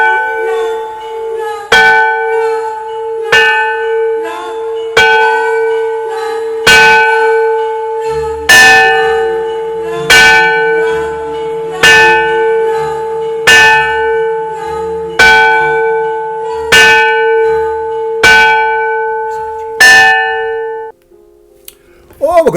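A church bell tolls slowly and loudly at regular intervals, each strike ringing out and decaying before the next, stopping near the end.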